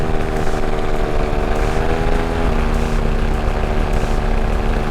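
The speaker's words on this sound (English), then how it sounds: "And you hear me increase thrust." A paramotor engine buzzes loudly and steadily in flight, its propeller drone edging higher in pitch as thrust increases, close and continuous with wind noise and no talk.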